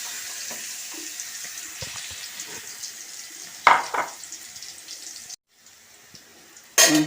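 Garlic crackling in hot oil with popping mustard seeds in a pan while making rasam, a steady close-up sizzle broken by a few louder bursts and a brief pause.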